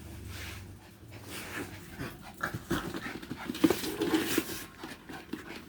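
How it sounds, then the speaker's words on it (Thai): A dog pants steadily and rhythmically at close range during playful exercise, the quick breathy puffs rising in intensity toward the end, with a few small whimpers mixed in. "หอบ หอบทำไม"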